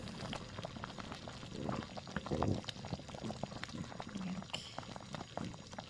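Apricot jam bubbles and pops in a pot on the stove, a continuous soft blipping close up with a brief word spoken over it.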